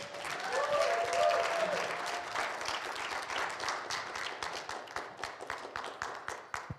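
A congregation claps to welcome a musician to the stage at a church service, a full burst of applause that thins into scattered, distinct claps toward the end, with a few faint tonal sounds early on.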